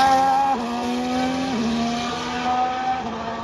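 Formula 1 cars accelerating out of turn two over the exit curb during Bahrain testing, a loud high-pitched engine whine with a gear shift and steady roar, heard from trackside with no talking.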